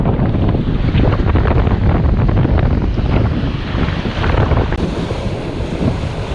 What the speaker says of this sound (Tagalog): Dito galing sa kaliwa ang hangin, so papuntang kanan ang casting natin.